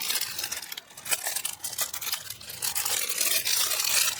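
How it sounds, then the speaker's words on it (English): Soft plastic packaging crinkles and rustles close by in uneven bursts, fairly quiet, with no voices. "Sorry about the crinkly noise."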